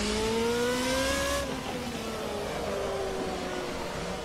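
An FC2 2014 race car screams around Spa Francorchamps in Assetto Corsa, engine note climbing then dropping sharply as it shifts and settles into a steady, loud drone heard from the cockpit.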